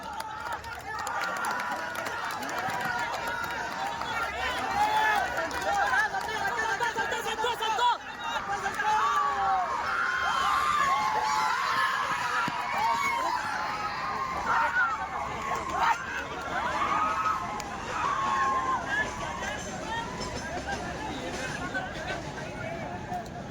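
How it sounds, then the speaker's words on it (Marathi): Outdoor crowd cheering and shouting in a steady, busy roar for a cricket team that has just reached the final, with lively mixed voices, whoops and laughter sustained throughout. "हा जल्लोष बघा, जल्लोष पाहिजे."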